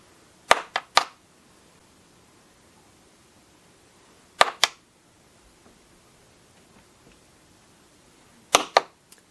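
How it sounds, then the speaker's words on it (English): A brush is banged against a table to knock off resin glitter, producing three close pairs of sharp, loud knocks spaced a few seconds apart with quiet between them. "I'm just hitting the brush on the table to try and knock off"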